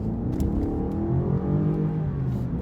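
A 2020 BMW 750Li accelerates hard, its engine note climbing steadily in pitch as it revs. The smooth whirring drone is heard from inside the car, with no talking.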